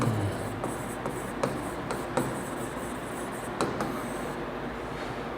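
Marker or chalk scratching across a board in steady strokes with short squeaky taps, close and fairly loud over a constant background hiss, no talking.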